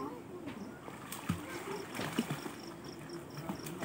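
A child swims in water, making faint, irregular splashes and soft slaps with a buzzing insect-like drone in the background, while voices are heard nearby.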